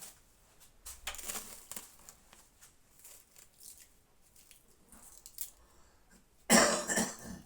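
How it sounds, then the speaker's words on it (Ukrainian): Faint scattered rustles and small noises lead up to a sudden loud burst of harsh coughing close by near the end. "Кашлаєш? Кашлаю."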